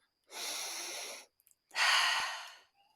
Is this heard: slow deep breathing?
yes